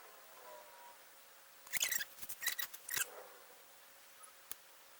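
Scissors snipping through material while cutting out pieces for a phone tether strap, a short cluster of crisp close snips after quiet, then a couple of faint clicks.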